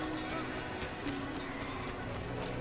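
Hoofbeats clip-clop steadily under a soft wash of background sound, with a brief horse whinny mixed in, moderately loud and continuous, from the video game Assassin's Creed.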